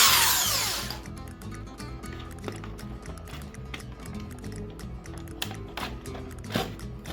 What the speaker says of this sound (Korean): 구멍을 이 정도 뚫어 주시고요